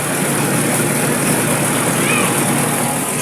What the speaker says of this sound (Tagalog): Umikot na po ang spin dryer na motor.